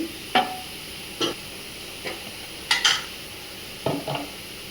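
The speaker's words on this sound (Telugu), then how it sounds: "ఈ అల్లం వెల్లుల్లి పచ్చివాసన పోయే వరకు వేయించుకుందాము" Ginger garlic paste cooks with onions in a pan for chicken fry, under a low background sizzle, while a spoon scrapes and knocks against the pan in several separate strokes.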